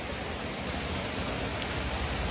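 Heavy rain pours down steadily outside a home, a loud, dense, unbroken hiss of falling drops with no pauses.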